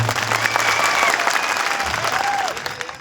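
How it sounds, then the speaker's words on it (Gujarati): An audience at a village political gathering claps loudly and continuously, a dense sustained round of applause with a faint tonal whine running through it. "બધા જ માટે એકવાર આપણે જોરદાર તાળીઓ પાડી લઈશું"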